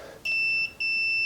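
Two sustained electronic beeps from a cheap Craftsman continuity tester set to audible-tone mode, each loud and steady, separated by a short gap.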